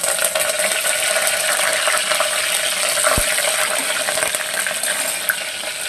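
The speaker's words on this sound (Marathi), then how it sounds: "कढीपत्ता छान तडतडून द्यायच्या" Curry leaves sizzle and crackle steadily in hot oil in a pan, a constant bright hiss with no voices.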